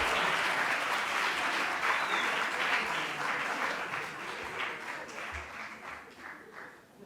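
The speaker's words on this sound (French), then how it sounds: "sous vos applaudissements." A festival audience at a student journalists' festival final gives sustained, loud, dense applause that continues steadily and fades slightly toward the end.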